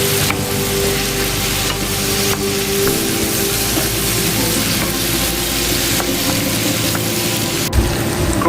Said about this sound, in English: Asparagus going into the bacon grease to cook. Asparagus cooking in the grease,